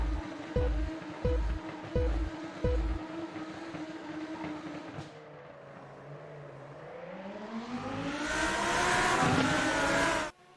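Lamborghini Super Trofeo race cars starting a race at Autodromo Nazionale Monza, several loud engine revs before a fading lull, then a rising roar as the field accelerates away.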